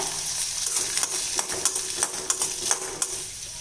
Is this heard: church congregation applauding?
no